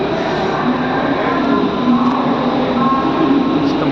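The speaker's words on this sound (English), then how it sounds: "Let's take you a short ride in the Mumbai local." A Mumbai local train rolls along in the non-peak hours near CST station, a loud, steady rumble and rattle of the carriage with faint squeals riding over the continuous noise.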